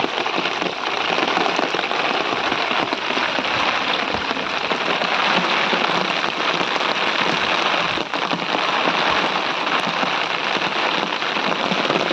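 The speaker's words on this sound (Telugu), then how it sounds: "పెద్ద గాలివాన ఫ్రెండ్స్" Heavy rain and wind pound a village during a monsoon storm. The downpour is loud and dense, with steady hissing and scattered drop impacts throughout.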